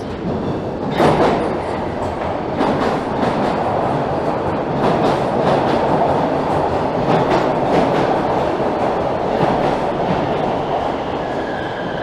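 A Toronto subway train rumbles through a station, wheels clacking and rattling over the rails in a steady roar with occasional sharper clunks.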